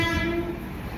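Train rumbling past a level crossing, opening with a brief horn tone over a loud, steady rolling roar.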